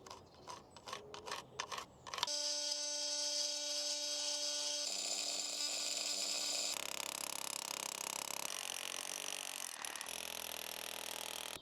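A power drill bores a hole into house brick for a doorbell install, first some stuttering bursts, then a sustained whirring grind that shifts pitch in several steps as the bit bites deeper.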